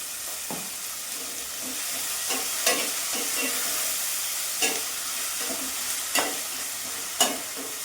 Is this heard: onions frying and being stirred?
yes